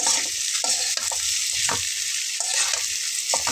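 Bitter gourd frying with turmeric and no salt in a pan, a steady close sizzle with repeated scraping stirs of a utensil at irregular intervals.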